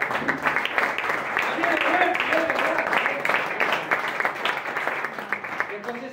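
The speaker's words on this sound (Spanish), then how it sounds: "Fuerte el aplauso para Max." Crowd applause at a live event for Max, a dense wash of clapping running under loud talk from a voice over the sound system.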